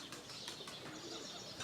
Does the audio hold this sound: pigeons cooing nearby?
yes